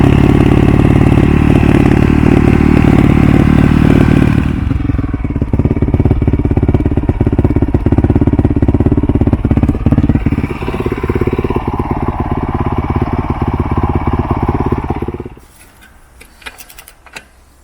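A Honda CRF 450 R motard motorcycle engine runs loud and close, first revving high, then settling into a steady, rattling idle before cutting off near the end.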